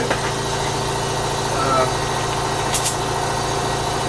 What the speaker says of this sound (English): once again, we're waiting for the compressor to build up